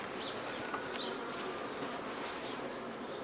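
A dense, steady hum of many honeybees buzzing around a hive, continuous and moderately faint, with occasional individual bees passing a little closer.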